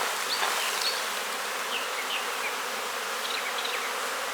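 Young nurse honeybees from an opened colony drone in a steady, dense buzz that fills the whole stretch, with a few sharper, higher wingbeat whines from individual bees passing close.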